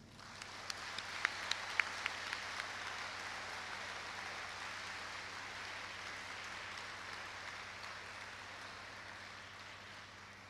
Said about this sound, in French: à nous de lui témoigner notre reconnaissance par ce